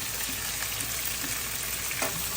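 Onions and okra fry on full flame, a dense, steady sizzle close up with faint crackles and a light stir or two.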